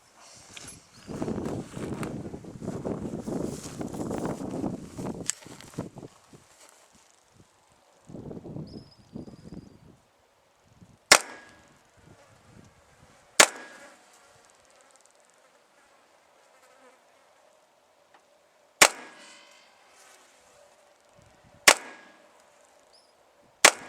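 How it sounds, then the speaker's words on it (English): A GSG 1911 .22 pistol fires bulk ammunition at a range: five sharp, separate cracks spaced a few seconds apart in the second half, following an earlier stretch of buzzing, rustling noise. "Let's run 10 more rounds of bulk ammo."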